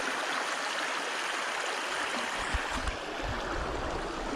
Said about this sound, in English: I think the sound of the river was